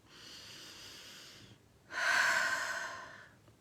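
Two long breaths in quiet: a steady inhale lasting about a second and a half, a short pause, then a louder, fuller exhale of about a second and a half, close and unhurried, with no talking.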